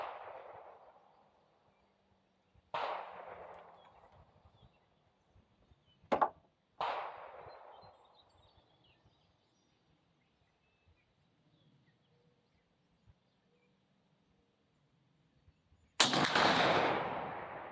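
Pedersoli Kodiak .50 caliber double rifle fired from the right barrel with a 70 load: sharp loud blasts with ringing decay, spaced apart across the clip, a final heavy burst at the end, no talk.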